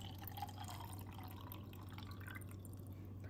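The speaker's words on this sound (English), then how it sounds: "All right, so pouring our water in." Water poured into a cup to mix a Kencko smoothie, a steady close trickle and splash that holds evenly for a few seconds over a low hum.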